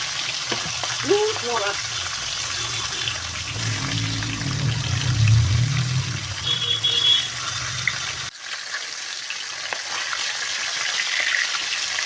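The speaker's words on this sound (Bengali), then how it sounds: "কড়াই বসিয়ে ভালো করে তেল গরম করে মাছের মাথাগুলো লাল করে ভেজে নেব" Catla fish heads frying in hot oil in a wok give a steady sizzle and crackle that swells in the middle, then drops off abruptly near the end before a quieter hiss returns.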